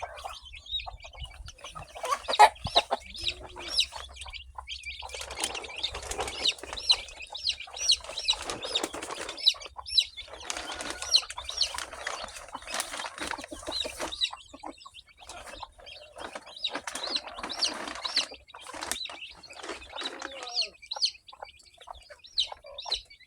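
Chicks in a nursery cage chirp and peep steadily at close range, with bursts of wing flapping and clucking throughout and no talking.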